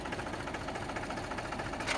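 A Mahindra 295 tractor idles steadily with its PTO engaged at 1000 RPM, a continuous close engine drone with a faint rhythmic knock and no talking over it.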